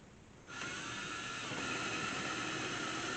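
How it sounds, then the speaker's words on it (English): A steady, high whining power drill boring into a wall stud starts abruptly and keeps running at full speed, loud and close, with no talking. "I'm going to go ahead and drill where the stud finder says the stud is"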